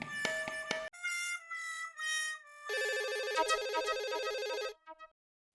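A telephone ringtone plays at home: a short beeping burst, then a descending electronic melody and a dense warbling ring lasting a couple of seconds before stopping, clear and fairly close.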